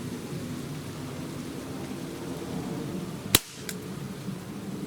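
A single sharp crack from a Desert Eagle air pistol firing a nearly 8-grain pellet, followed by a faint echo or pellet impact, against a quiet background hiss.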